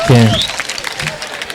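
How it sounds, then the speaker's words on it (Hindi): An audience at a poetry mushaira in Nuh Mewat breaks into clapping for the sound technician, a brief burst of applause following a voice, moderately close. "मैं चाहता हूं एक मतलब माइक वाले के लिए तालियां बजा दो"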